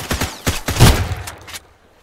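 Rapid bursts of gunfire in the survival video game Sunkenland: a loud, close volley of several shots fires in an uneven rhythm, then cuts off abruptly into near silence.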